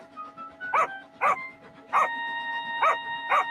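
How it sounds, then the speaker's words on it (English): A dog barks five times in quick succession along a railway track, each bark short and sharp at moderate volume with brief gaps between them, heard over a quiet background. "But then he heard a bark, and Thomas and his crew could see Lucy bolt"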